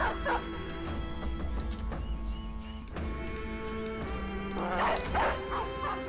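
Dogs in a video game bark repeatedly over a busy game soundscape, with sharp yips and barks clustered near the start and again toward the end, fairly faint overall.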